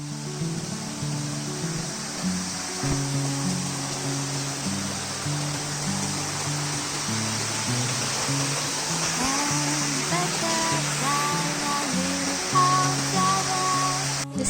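A river flows beside a walking path, giving a steady, broad rushing wash throughout with music playing over it.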